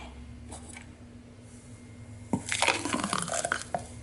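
A drink pours into a glass rimmed with kosher salt, starting with faint clinks and trickles, then a louder splashing rush of liquid over the last second and a half.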